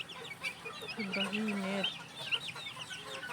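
Chicks cluck and cheep after a sand bath in soft, scattered high calls, with a nearby voice speaking briefly over them.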